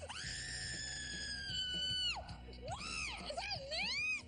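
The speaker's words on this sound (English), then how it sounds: "the longest scream ever recorded in front of a mirror." A woman screams on seeing her reflection in a mirror after a makeover reveal: one long, loud, sustained shriek, then a short break and a run of wavering, rising and falling cries.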